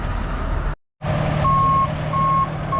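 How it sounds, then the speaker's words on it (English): A flatbed tow truck at a rest stop sounds its reversing alarm, a steady loud beep repeating at even intervals over a rumbling engine, close by, with a brief cut of silence early on. "Oh, there's our tow truck."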